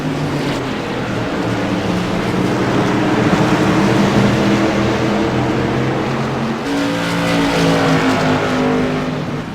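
CRA modified race cars roar around Martinsville Speedway during a race, a dense, loud, continuous engine drone that swells as the pack passes, with one car's pitch shifting higher near the end.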